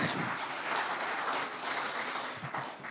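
A dense round of applause from attendees at a political party announcement event, steady, continuous clapping from many hands at moderate distance, fairly quiet overall with no voices over it.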